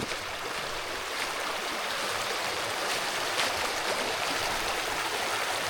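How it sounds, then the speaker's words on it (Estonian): A mountain stream flows in the Low Tatra forest of Slovakia, a steady, close broadband rush of water running unbroken and alone, with no voices. "Oja."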